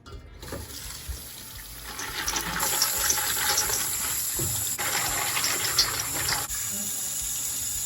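Tap water runs steadily into a sink as seeds are rinsed, a continuous close splashing rush that starts and shifts a few times as the flow is moved or interrupted.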